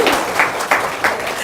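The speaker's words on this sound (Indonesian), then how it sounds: "tepuk tangan dong." A short burst of applause from a small group of people: a few loud, distinct claps in quick succession, close and brief.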